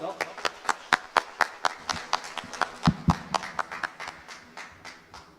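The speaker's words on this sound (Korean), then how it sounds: "큰 박수 부탁드립니다." Wedding guests at a hotel reception in Namwon clap for a traditional Korean singer, with sharp, separate claps ringing out close by at an uneven pace, like a thin round of applause.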